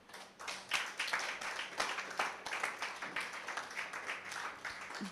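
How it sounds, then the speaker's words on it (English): An audience at a youth retreat session claps together in a burst of applause, a dense crackle of many hands that holds steady for about five seconds at moderate distance, with no voices on top. "Please clap."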